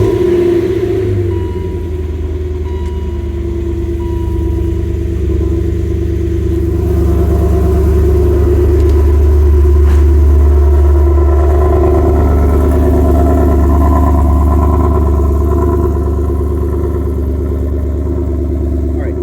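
A BMW E39 M5 with the S62 engine and an aftermarket exhaust with resonated X-pipe, test pipe and cans starts up and settles into a deep, loud, steady idle rumble heard up close.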